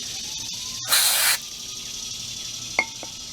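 A single short hiss of carburetor cleaner sprayed onto a Troy-Bilt push mower carburetor, loud and close, followed by a couple of faint metallic taps in a quiet setting.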